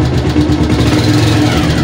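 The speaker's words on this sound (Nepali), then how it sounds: "मैले बाइकलाई कोल स्टार्ट गरिसकेको छु" A motorbike engine idles steadily just after a cold start, a continuous low rumble with mild knocking vibration, close and fairly loud, with no talk over it.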